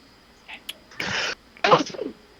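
A single sharp sneeze bursts out after a quieter breathy lead-in, followed by a brief trailing sound, close to the microphone.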